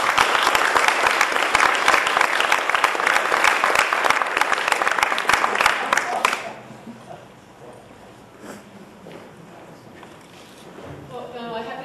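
Audience applause at a community sustainability and green-jobs education panel, loud and dense for about six seconds, then cutting off abruptly into quiet room noise with faint movement.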